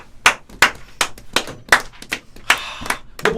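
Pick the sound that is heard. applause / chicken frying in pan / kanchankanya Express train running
applause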